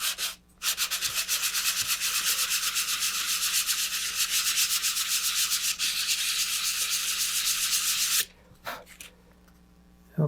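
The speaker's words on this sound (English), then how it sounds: "and then I just sand it down to make sure that nothing's sticking up" A steady, loud rasp of sandpaper rubbing back and forth over multi-piece model rocket fins runs for about eight seconds, then stops abruptly with a brief quieter scrape near the end.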